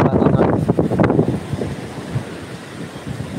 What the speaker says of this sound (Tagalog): Grabe yung hangin. Nagwawala yung hangin mga chaps.